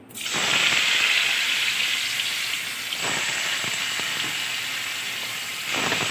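Boiled potatoes hit hot oil with a sudden rush of sizzling that settles into a steady, close, crackling fry, with a brief stir-like dip partway and a swell again at the end.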